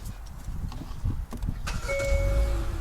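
A Hyundai Avante CN7 starts up: a few light clicks, then the engine cranks and catches into a low, steady idle rumble, with a soft electronic chime sounding over it.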